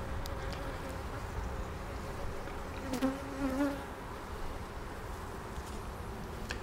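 Honey bee colony in a Segeberger hive humming in a steady, dense drone, with a few brief louder swells of individual bees passing close around the middle.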